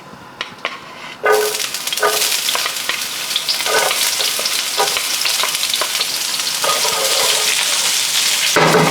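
Onions hit a hot pan of oil left from frying tofu and erupt into loud, continuous sizzling, with a few bright taps and stirring scrapes at the start and occasional utensil clinks over the crackle.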